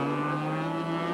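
A race car accelerates hard on the Donington Park circuit during the 1986 Transatlantic Challenge, its engine a loud, steady, high-pitched roar with strong harmonic tones throughout a brief burst.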